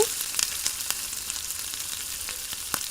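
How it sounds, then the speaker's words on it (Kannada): Vegetables and rice frying in hot oil for fried rice, a steady close sizzle with a few sharp clicks of stirring, no voices. "ವೆಜಿಟೇಬಲ್ ಎಲ್ಲ ಆಯಿಲಲ್ಲಿ ಚೆನ್ನಾಗಿ ಫ್ರೈ ಮಾಡಿಕೊಂಡು ರೈಸ್ ಹಾಕೋತಾ ಇದ್ದೀನಿ"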